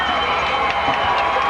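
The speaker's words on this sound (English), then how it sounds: "You hear the cheering in the background." Crowd cheering at a 1994 high school football game between London and West Jefferson, a broad steady roar of fans with scattered shouts, continuous at a moderate level.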